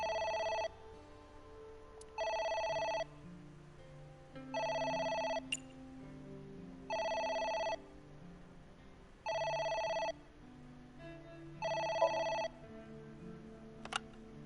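A telephone in a video game rings in six evenly spaced electronic bursts, each about a second long with a short gap between them, clear and fairly quiet over soft background music.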